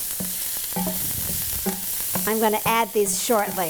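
Mushrooms sauteing in a pan for a pasta with sun-dried tomatoes in cream sauce give a steady close sizzle, while a voice talks over it for most of the clip.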